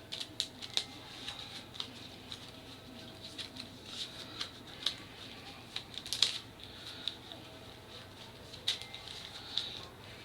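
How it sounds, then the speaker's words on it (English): A discard pile of playing cards is shuffled during a tabletop card game, heard as a series of crisp, close riffling snaps and light clicks scattered irregularly over a quiet background. "I got to shuffle the discard pile."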